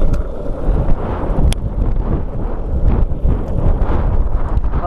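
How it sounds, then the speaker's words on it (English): Strong wind buffets the microphone outdoors in a loud, continuous low roar with gusty fluctuations and no clear pauses. "Oh yeah, this wind though."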